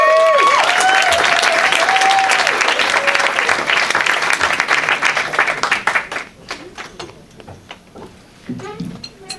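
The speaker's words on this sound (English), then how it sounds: "Thanks for clapping." Comedy club audience applauding a comedian's arrival on stage, loud dense clapping with some whoops and a voice over the top, thinning to scattered claps near the end.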